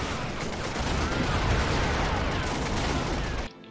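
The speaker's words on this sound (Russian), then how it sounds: "Миномет, да, стреляет" Mortar and other battle fire in the World War II strategy game Blitzkrieg, a dense, continuous rumble of distant shots and blasts that cuts off abruptly near the end.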